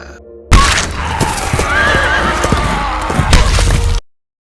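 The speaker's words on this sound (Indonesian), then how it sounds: "Liz datang tepat waktu dan menebas lengan Wickham, lalu menginjak dengan kudanya" A horse in a zombie film battle scene lets out a loud, drawn-out whinny close up, with heavy hoofbeats thudding underneath before the sound cuts off abruptly.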